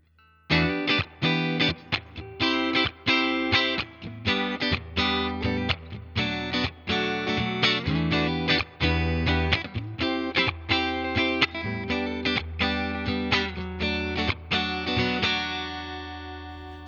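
A Fender Player Plus Telecaster on its neck pickup, wired in series, plays a clean tone through a Fender Deluxe Reverb Tone Master amp: rhythmic strummed chords for about seventeen seconds, with the last chord left ringing out.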